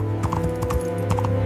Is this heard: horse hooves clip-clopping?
yes